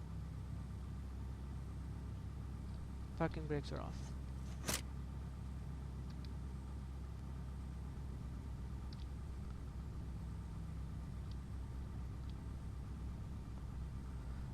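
A light aircraft engine idling at about 1000 RPM while taxiing in the FSX A2A flight simulator, a steady low rumble throughout with a brief voice speaking early on.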